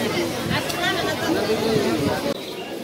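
Dense babble of many voices inside a packed, crowded train carriage, steady and close, with individual people talking nearby.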